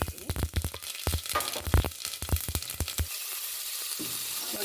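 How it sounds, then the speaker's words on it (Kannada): Fennel, cumin and mustard seeds hitting hot oil for a tempering, a dense run of crackling pops and spits that thins out into a steady soft sizzle, close up with no voices. "ಸೋಂಪು, ಜೀರಿಗೆ ಮತ್ತು ಸಾಸಿವೆ ಇಷ್ಟನ್ನು ಹಾಕ್ಕೊಳ್ತೀನಿ."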